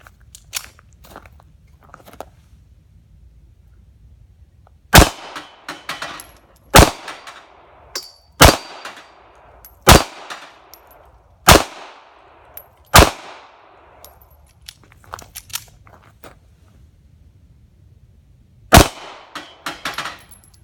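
A Ruger LCP pistol with an FDE Sage Cerakote finish fires about eight sharp, loud, close shots at uneven intervals with a failure to eject, then one last shot after a long pause.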